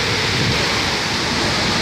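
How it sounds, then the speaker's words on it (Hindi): Loud, dense roar of heavy rain and hail pouring down in a storm, a constant close wash of noise with no voices. "आप देख सकते हो बर्फ़ के साथ पानी गिर रहा है"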